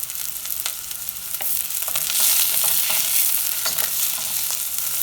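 Six green chilies sizzle and fry with browned onions in a pan for a Kerala-style vegetable stew, a steady loud crackling hiss with occasional stirring scrapes and no voices.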